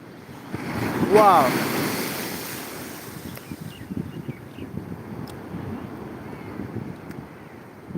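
Big waves surge and break on a Sunday seashore, a loud rushing crash early on easing into a continuous roar of surf mixed with gusty wind buffeting the microphone.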